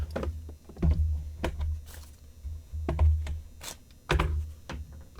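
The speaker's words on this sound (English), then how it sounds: "Let's cut them out of the package and take a closer look" Lead anchors are cut out of a plastic package, with a series of crisp clicks, snips and crinkly plastic rustles coming close up in uneven bursts.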